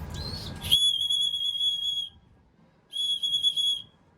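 A whistle sounds in two shrill, steady blasts, the first about a second and a half long after a brief shorter toot, then a pause and a second shorter blast, loud and close.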